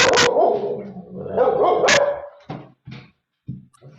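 Dogs barking indoors, a run of loud, close barks and yips followed by several short sharp barks with brief pauses between them.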